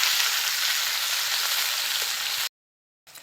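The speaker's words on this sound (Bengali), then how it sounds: "পেঁয়াজটাকে হালকা একটু ভেজে নেব" Chopped onions fry in oil after whole spices are tempered, a loud, dense, continuous sizzle close up that cuts off abruptly, then resumes briefly after a short silence.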